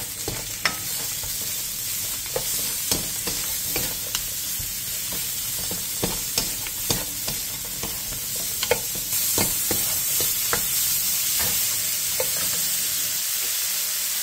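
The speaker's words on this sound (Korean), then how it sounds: "팬에 기름을 두른 뒤 버섯과 다진 마늘 1스푼, 소금 2분의 1티스푼을 넣고 센 불에서 볶아주세요." Mushrooms with minced garlic and salt stir-frying in oil in a pan over high heat, a continuous sizzling hiss with frequent utensil scrapes and taps against the pan, moderately close, with no talking.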